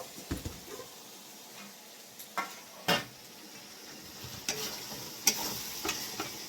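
Chicken pieces tipped into hot spiced masala for chicken kosha, a soft frying sizzle with scattered spoon stirs and clinks against the pan, close by, no voices.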